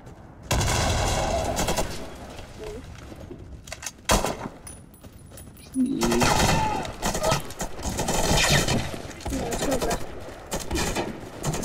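Bursts of rapid video-game gunfire from Warface crackle loudly in dense volleys, broken by a short lull, with voices talking over parts of the action.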